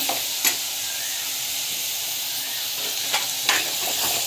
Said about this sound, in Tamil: பெருங்காயம் வந்து ஆட் பண்ணிக்கணும். நல்லா வந்து வதக்கிட்டுக்கோங்க.